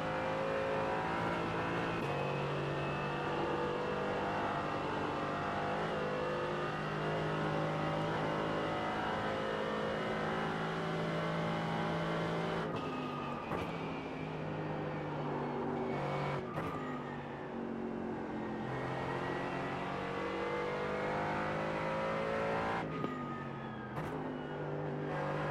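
A GT4 race car in the iRacing game at Nürburgring revs hard, and its engine note climbs steadily and drops sharply on downshifts. A few abrupt gear-change breaks punctuate the continuous engine noise.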